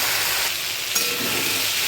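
Onion and tomato fry in a pan, giving a continuous, fairly loud sizzling hiss with steam and no talk over it.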